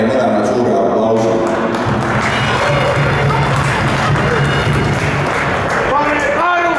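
Football fans in a stadium sector clap and cheer in a dense, continuous wash of crowd noise, with a voice speaking loudly over it throughout.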